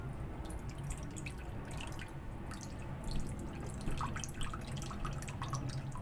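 Soy sauce trickles onto a whole chicken of about two kilos in a bowl, a faint, soft stream of dripping and splashing with a few brighter drips, and no one speaks.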